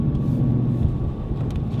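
A stock Ford Mustang Boss 302 gives a steady, loud, deep engine rumble from inside the car, low and continuous for a couple of seconds.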